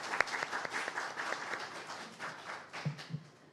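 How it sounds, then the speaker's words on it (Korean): Crowd at a youth political forum in Ulsan claps vigorously, a thick run of hand claps with a few sharp near claps standing out, steady throughout and fading slightly toward the end. "여러분 힘찬 박수 부탁드리겠습니다"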